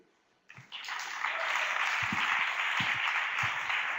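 Conference audience at an opening keynote applauds an interpreter, steady moderate clapping rising after a brief silence and continuing, with a few low thumps underneath and no speech.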